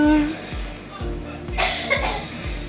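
A few asthmatic coughs sound faintly in the background while a person keeps talking over them in the foreground.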